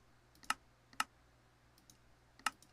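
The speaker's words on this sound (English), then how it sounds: "We can hear the other one clicking away" Automatic micro wheat farm in Minecraft clicking away, three sharp, fairly quiet clicks at irregular intervals, with a few softer ticks between them over a quiet background.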